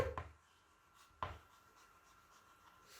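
Chalk or pen strokes on a board during a physics lecture on two-port networks, two short scratchy bursts close by with quiet room tone between, no speech.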